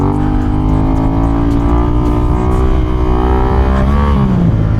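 A Yamaha MT-07 stunt motorcycle pulls hard in first gear, a loud, close engine drone holding a steady pitch before a brief rise near the end.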